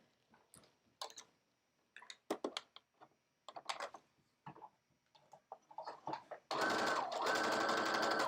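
A sewing machine runs steadily while stitching along the very edge of a gathered shirt sleeve, a loud continuous whir in the last couple of seconds after scattered clicks and handling taps.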